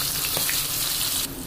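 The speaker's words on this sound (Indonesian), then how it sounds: "Terus kita goreng dalam minyak panas." Red chilies, bird's eye chilies, garlic, shallots and shrimp paste fry in hot oil, giving a loud, continuous sizzle and crackle that fills the whole brief moment.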